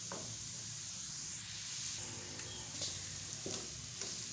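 Gajrela mixture of grated carrot roasting in a pan, a soft steady sizzle with occasional stirring scrapes, faint and close.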